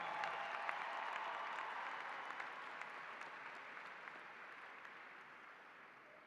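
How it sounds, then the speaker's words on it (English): Sustained applause from a large audience at a fall 2025 university commencement ceremony honoring the graduating class, a dense steady wash of clapping that slowly fades across the clip. "Please give me another round of applause for the graduating class of 2025."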